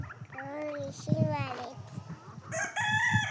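A country-breed rooster crows on a poultry farm in Gadag, with two or three close, loud drawn-out crows, the last one near the end, while a person talks throughout.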